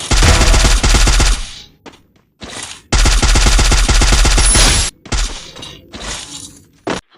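Loud automatic gunfire from the video game Free Fire comes in two long rapid bursts, followed by shorter scattered shots and brief gaps, with no voices.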